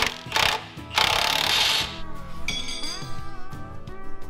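Metal clanks and clinks while a part is bolted in place on an off-road tow truck, loud and close, with bursts of tool noise and ringing metallic knocks in an irregular rhythm.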